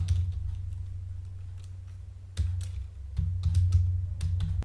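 Computer keyboard typing while entering mobile number and form details in an online entrance exam application, a steady run of soft key clicks over a low hum, busier in the second half.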